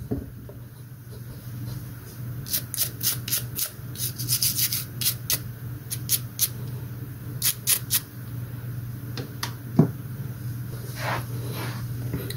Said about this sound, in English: With the circuit board cleaning liquid,